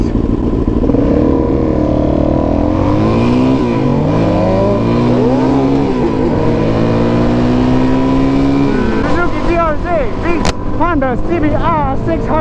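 A motorcycle revs hard and accelerates in a street race alongside another bike, engines climbing and shifting repeatedly, loud and close, with rapid blips and revs toward the end.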